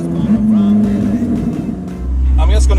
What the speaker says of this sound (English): That sound, it's just so emotional, just directly connected to the engine.